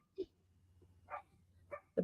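Small guard dogs bark at a squirrel, giving four short, faint yips spaced irregularly across a quiet stretch.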